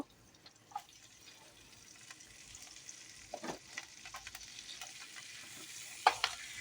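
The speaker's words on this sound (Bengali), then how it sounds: "এখন লাল শাকটা আমি এর ভিতরে দিয়ে দিব" Red amaranth greens being stir-fried with large prawns and chopped garlic in a pan, giving a quiet steady sizzle broken by occasional scraping stirs and a few sharper clinks near the end.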